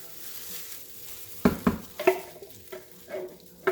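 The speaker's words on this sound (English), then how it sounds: "Now we're going to add in our tomato sauce." Tomato sauce being added to a crock pot lasagna, with a few sharp clanks and wet scraping plops as it is poured and spread in a quiet kitchen, irregular and fairly close.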